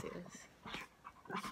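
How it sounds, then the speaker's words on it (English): Dogs playing make soft, brief whimpers, yips and low growls in short bursts, quiet and close by. "The dogs are playing."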